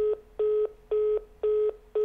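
Touch-tone telephone dialing while calling an airline, five evenly spaced keypad beeps in a quick regular rhythm, clear and close with no voices.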